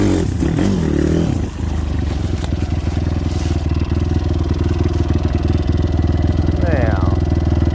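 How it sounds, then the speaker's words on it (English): A motorbike engine runs hard and close, chugging with a fast, throbbing pulse while the bike rides through dense bush on rough property ground. Its revs rise and fall, a voice is heard early on, and brush scrapes along at times. "Need to gear this bike lower."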